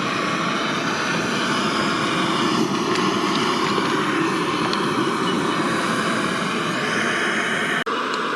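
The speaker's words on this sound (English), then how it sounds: "I don't know if you can hear me over the top of that jet boil." A Jetboil camping stove burner roars at a solo campsite in the morning, a loud, steady, unbroken rushing hiss that fills the whole stretch without pause until a sudden cut at the very end.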